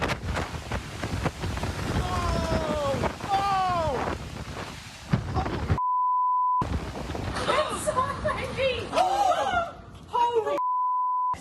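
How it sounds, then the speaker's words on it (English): Strong wind in Dunedin buffets the microphone with loud, gusty rumbling, mixed with news-report talk and broadcast beep tones. "Wild winds and a lucky escape for these Otago University students."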